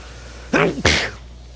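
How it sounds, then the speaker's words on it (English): A single person sneezes while playing Star Wars The Force Unleashed, a sharp two-part sneeze with a quick inhaled catch followed by a loud, breathy burst, close to the microphone against quiet background hum. "I'm so sorry for sneezing like that"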